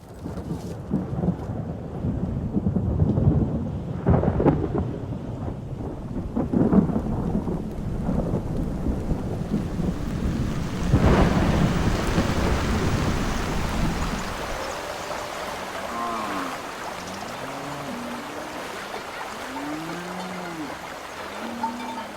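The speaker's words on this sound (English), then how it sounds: "The rains come gushing down, and in great abundance." Heavy rain pours down with rumbling thunder in Surma country, a dense hiss of rainfall with deep rolls building mid-way, then easing to a steadier wash; later, faint chirping calls sound over the rain.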